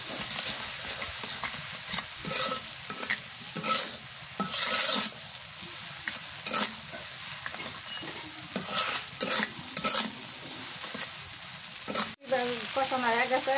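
Tiny dried shrimp stir-fried in a pan, with a continuous close sizzle broken by repeated scraping strokes of the spatula, one sharp knock near the end, and brief talk at the close.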